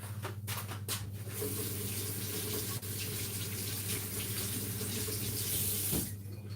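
Tap water runs steadily into a kitchen sink while mackerel is rinsed for a Jamaican run-down, a continuous close hiss with a few brief splashes near the start and end.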